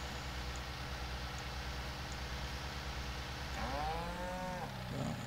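Cattle mooing after being fed on a farm, a single drawn-out moo near the end that rises clearly above a steady noisy background, followed by a brief second call.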